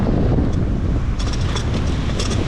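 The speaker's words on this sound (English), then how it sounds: "So it might be what some people consider just a rainstorm, but that wind is ridiculous." Strong hurricane wind in Charleston, South Carolina, during Hurricane Ian, roaring and buffeting a microphone in a steady, loud, continuous rush with a few brief gusty surges and no talking.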